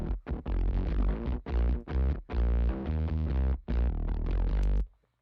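Sugar effect plugin blended with the dry signal during a live mixing session, a thick distorted, saturated musical phrase of sustained notes in rhythmic chunks, loud and alone before cutting off.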